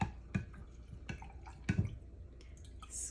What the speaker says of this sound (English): And now I'm going to clean this brush out in my water.